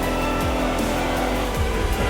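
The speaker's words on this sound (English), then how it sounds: "Oh wow, this Jaguar is pulling" An electric Jaguar car accelerates hard in The Crew Motorfest, a loud, steady motor whine with rising tones sweeping up repeatedly as it gains speed, no talking.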